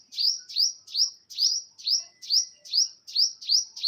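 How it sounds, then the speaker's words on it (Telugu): Parrots perched in a henna shrub in a garden give a fast series of about nine sharp, shrill chirping calls in a steady repeating rhythm, fairly close and with nothing else in the background. "చిలుకలు చూసారా ఎలా అరుస్తున్నాయో"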